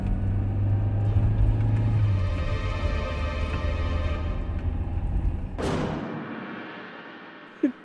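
A car passing close by, a loud low rumble that holds steady, then rises in a sharp whoosh and cuts off abruptly, followed by a quieter tail and a single thump at the end.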